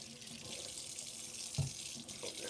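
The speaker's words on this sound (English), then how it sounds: "Let me wash my hands." Hands washed under a running tap, a steady close stream of water splashing into a sink with a brief splash of hand movement midway.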